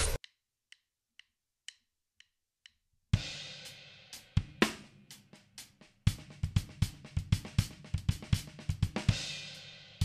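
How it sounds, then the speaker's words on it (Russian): A drum chop built on a repeated six-stroke roll in 6/8 opens with a few light clicks. Then comes a loud, close burst of rapid snare, tom and cymbal strokes in steady repeating flurries, played alone without talk. "И вот как звучит этот чоп в размере на 6 восьмых."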